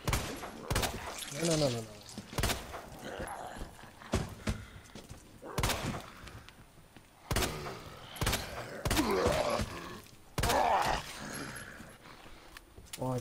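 Sharp gunshots fired at zombies in Resident Evil 2 Remake, several loud cracks spaced irregularly across the stretch, mixed with game sounds and someone talking over them.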